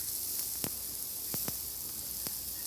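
Sliced ridge gourd fries in hot oil tempered with nigella seeds, giving a constant soft sizzle with a few sharp pops and crackles scattered over it.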